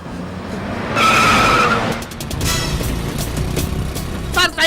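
A car skids hard with loud, sustained tire squeal and a revving engine, the screech rising sharply then fading into engine roar and rattling, with a brief burst near the end.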